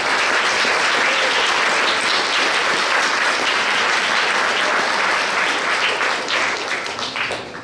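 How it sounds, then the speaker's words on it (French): Dense, steady applause from an audience at a regional science fair final in Québec, loud and continuous before tapering off near the end, with no talk over it. "On les applaudit."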